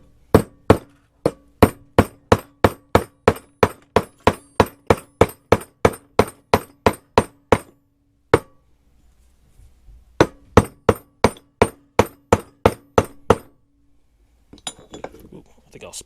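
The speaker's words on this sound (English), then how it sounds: "hammer it from the back, and it comes out just like that" A hammer taps a pump seal out from the back on a Keene 4-inch motor: close, sharp metallic strikes in a fast even run, a short pause, another rapid burst, then faint handling clatter.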